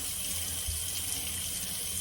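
Water runs steadily from a tap while a rescue dog is being bathed, a continuous close rushing hiss with a low hum beneath and no talking.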